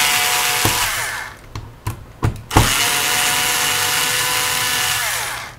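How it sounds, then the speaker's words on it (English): Close, loud whirring of a powered screwdriver backing out the bottom screws of an Intel NUC, a sustained motor drone broken by a few short stops and restarts near the middle. "we've got four screws here. One, two, three, four. I'll just unscrew those, just be a second."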